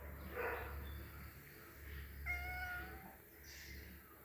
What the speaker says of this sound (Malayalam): കറുമ്പൻ പൂച്ച ഉണ്ടാ, കറുത്ത പൂച്ച